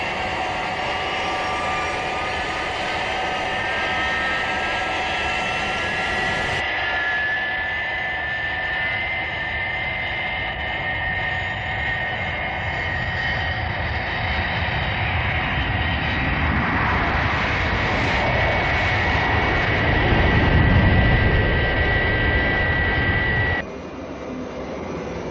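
The jet engines of the Fireflash atomic airliner from Thunderbirds roar steadily in flight, a continuous dense rushing drone that swells slightly before shifting to a thinner tone near the end.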